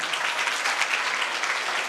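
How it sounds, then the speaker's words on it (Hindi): A crowd at a Teachers' Day program claps for the teachers, a brief burst of dense, even applause close and loud. "इन सभी के लिए मैं चाहूंगा खुले दिल से आप लोग ताली बजाएं"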